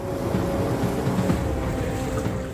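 A boat moves through floodwater over flooded village roads in Dwarka, Gujarat, with a steady low engine drone and continuous water wash, constant and fairly close throughout.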